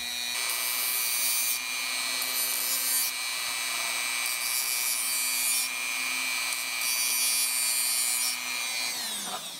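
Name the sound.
grinding grooves into nitro one-way bearing shaft, sparking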